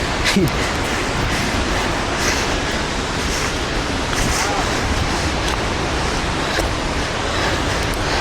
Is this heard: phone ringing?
no